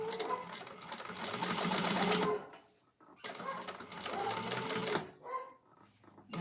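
A sewing machine top-stitches the card slots of a clutch wallet in two long, fast runs of rapid rhythmic needle clatter, broken by a brief pause and short stops.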